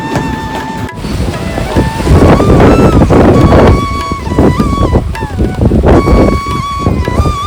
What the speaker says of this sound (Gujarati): પવન એવો આવે છે અંદર